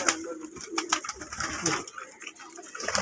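Pigeons coo softly in a loft that houses high flyer, breeding and racing pigeons. The low, murmuring coos are nearby and overlap, with some talk in the background.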